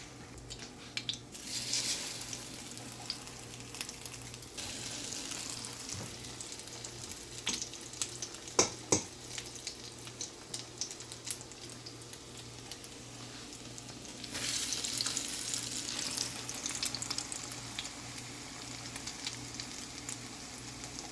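Egg-dipped bread slices for French toast sizzle and crackle in hot oil in a pot, a soft, steady frying hiss with a few sharp pops and louder bursts of bubbling toward the end.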